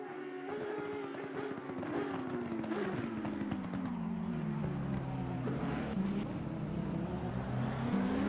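GT3 race cars in Assetto Corsa Competizione accelerating off the start and braking: a steady engine drone whose pitch climbs and then falls, held at an even level for the whole stretch, with no speech heard over it.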